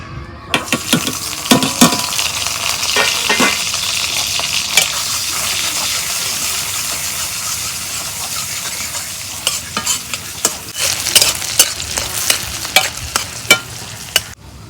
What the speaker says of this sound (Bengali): তেল গরম হচ্ছে পেঁয়াজ কুচি দিয়ে দিব